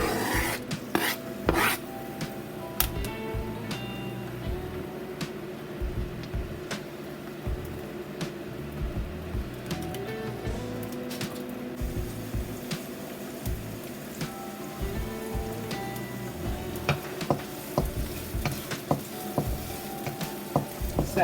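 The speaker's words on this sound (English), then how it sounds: "I'm gonna stir fry a little bit of onion in there with it." Onion is stir-fried in a pan alongside meat, with a low steady sizzle under repeated scraping and rubbing strokes of a spoon against the pan that continue close up for about twenty seconds.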